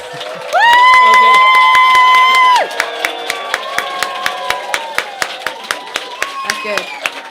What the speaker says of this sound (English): can we get a massive round of applause for Sabah